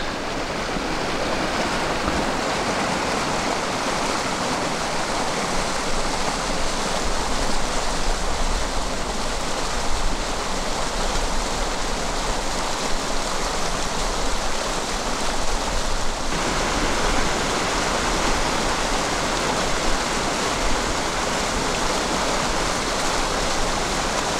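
Water rushes past a small flow-gauging station high in the Atacama Andes near Paso San Francisco. The flow makes a loud, unbroken broadband roar that stays steady for over twenty seconds.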